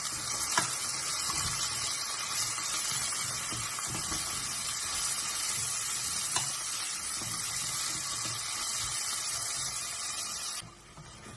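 Dill and broad beans frying in a pan for Iraqi rice with fava beans, a constant bright sizzle with occasional stirring clinks, close and steady, then dropping away abruptly near the end.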